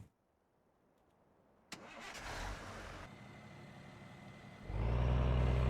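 A dump truck engine in Farming Simulator 15 cranks with a sharp click, catches and settles into a rumbling idle, then revs louder toward the end, heard alone and close.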